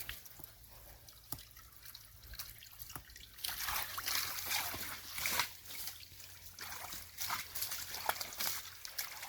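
Fresh water from a natural spring trickles and drips steadily up close, a soft continuous flow that grows fuller and louder partway through.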